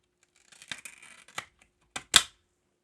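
Scissors cutting film on a Mercury 65mm/70mm panoramic camera back, several short crisp snips and crinkles spaced apart, close and fairly quiet against silence.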